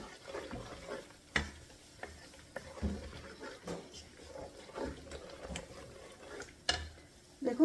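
Masala being sautéed in oil for chicken roast, a soft sizzle under recurring spoon scrapes and knocks against the pan at an uneven pace, close and fairly quiet.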